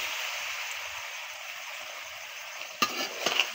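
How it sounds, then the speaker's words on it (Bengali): Potatoes and beans are sautéed in a pan with greens and dried fish, giving a steady soft sizzle, then a few sharp scraping clicks near the end as the mixture is stirred. "আমি একটু কষিয়ে নিব।"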